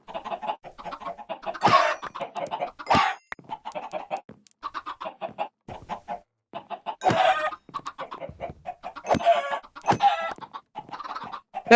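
Minecraft Java Edition 1.21.2 chickens clucking nearby, scattered choppy clucks with a few louder squawks and flapping bursts, irregular and spaced by short silences.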